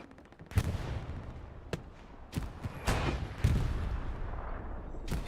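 Heavy gunfire rattles through a Hell Let Loose match on Utah Beach, with sharp individual shots and short bursts cracking at irregular intervals over a constant rumble of battle.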